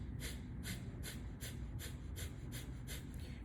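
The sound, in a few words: Kapalabhati breathing, forceful exhalations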